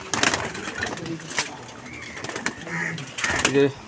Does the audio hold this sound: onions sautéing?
no